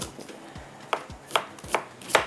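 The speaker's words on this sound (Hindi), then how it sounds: "ये इसके अंदर मैं प्याज को कटिंग करके डाल देती हूँ" An onion is chopped with a knife on a board: four sharp, close knife strikes in a slow, steady rhythm, each with a small thud, and no talking.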